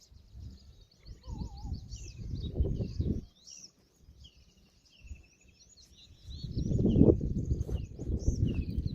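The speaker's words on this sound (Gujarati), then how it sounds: "કેટલું પક્ષી બોલે, અવનવા પક્ષી બોલે." Several birds chirp and trill high overhead near a gulmohar tree on farmland, partly masked by low rumbling wind gusts that swell and fade.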